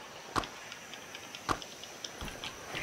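Weed picking in the video game Grounded produces faint, crisp clicking pops, two distinct ones about a second apart and then softer ticks, over a quiet background.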